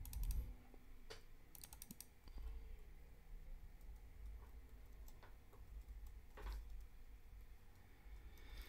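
Computer keyboard being typed on nearby in a quiet room, with scattered bursts of soft key clicks and pauses between them, fairly faint and with no talk.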